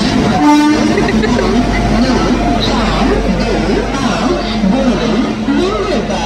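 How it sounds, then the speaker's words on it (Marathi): A train pulls into Chiplun station with horn toots and rumbling, while people talk nearby over the station noise. "ट्रेन आलेली आहे."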